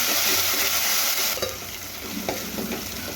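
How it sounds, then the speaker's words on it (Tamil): Ginger garlic paste and onions sautéing in hot oil for dalcha, a loud steady sizzle that eases slightly partway through, with scattered spatula scrapes and no talking. "சேர்த்து அதுவும் பச்சை வாசனை போகிற அளவுக்கு நல்லா வதக்கிக்கணும்."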